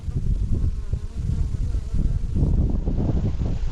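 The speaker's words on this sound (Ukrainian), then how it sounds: "Як ту осу вигнати?" A wasp buzzes steadily close by, its droning hum wavering in pitch as it moves around.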